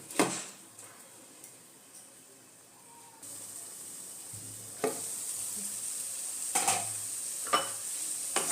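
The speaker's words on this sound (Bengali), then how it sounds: "আবারও আমি দইটাকে দিয়ে এই মশলার সাথে আর একটু কষিয়ে নেব।" Spice paste with yogurt being stirred and sautéed in a pan for a Bengali raw jackfruit and prawn curry, a steady sizzle with occasional scraping stirs, growing louder partway through, no talking.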